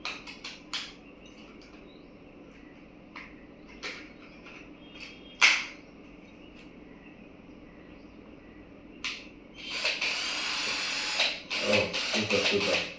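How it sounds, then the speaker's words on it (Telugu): A new cordless drill machine spins up in a sustained whir near the end after scattered clicks and handling taps, fairly close. "కొత్త డ్రిల్ మిషన్, ఇది వర్క్ చేస్తుందా లేదా."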